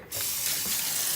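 Tap water runs steadily into a sink over soaked dried corn kernels being rinsed, a close, continuous splashing rush that starts abruptly and holds even for the rest of the moment.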